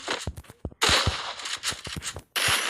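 Gunfire in a mobile shooter video game landing a headshot: a series of sharp, close reports in quick succession with short gaps between bursts, loud and punchy, no talk over them.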